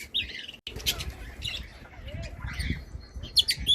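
Budgerigars and parrots kept together in a shared cage chirp and tweet in short, scattered bursts, with several brighter calls toward the end over a low background rumble.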